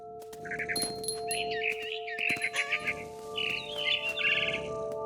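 A mother bird in the video game What Remains of Edith Finch gives a run of sharp chirps and trills in short bursts, set over a steady electronic hum with a few clicks.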